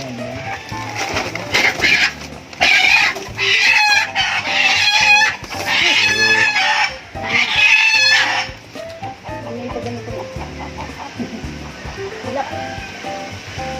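Chickens cluck noisily and a rooster crows several times close by on a farm, with people talking intermittently underneath and after the calls.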